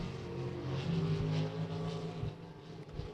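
A race car on a qualifying lap at Beckley Motor Speedway during the Cowboy Classic, its engine droning steadily with slight shifts in pitch as it circles the oval, moderately loud and continuous with no voices.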